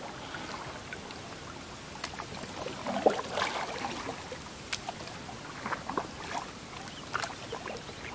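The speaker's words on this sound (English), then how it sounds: "That's Ralphie paddling the Yukon solo." A solo canoe paddled on the Yukon River in rain, with soft, irregular splashes and drips of paddle strokes close by and a steady wet background hiss, no talking.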